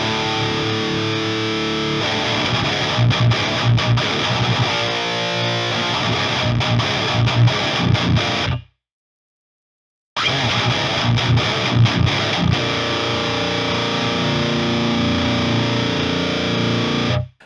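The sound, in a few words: electric guitar through tube screamer-style boost in 5150 amp plugin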